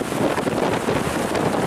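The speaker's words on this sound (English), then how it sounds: "Man, that's some wind." Strong wind on a Patagonian mountain plateau in Torres del Paine roars steadily against the microphone, loud and unbroken, with no voices.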